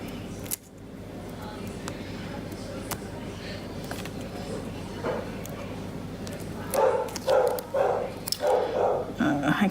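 A dog barks indoors in a rapid cluster of loud, sharp barks and yaps near the end, after a stretch of steady low room noise with faint clicks.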